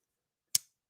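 A folding knife opens with a single crisp, close click, short and sharp against silence.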